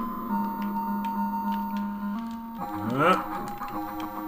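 Electronic game tones from the Master System game Rampage give way to a warbling, buzzy brr of a monster chewing that sweeps up in pitch, loud and close.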